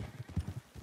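Horse hooves clip-clopping at a quick, rhythmic gallop in the video game Red Dead Redemption 2, steady and fairly close with no talk over it.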